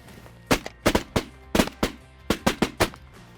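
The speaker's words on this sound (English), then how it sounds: "That was not our best shooting there." Roughly nine sharp shotgun blasts fired at mallard ducks during a windy November hunt in South Dakota, loud and close, coming singly and in quick pairs over a low rumble of wind.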